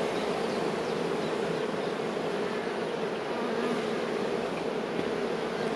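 Honeybees buzz steadily at an open hive during a spring frame inspection, a dense, continuous drone close by and fairly loud, with no talking over it.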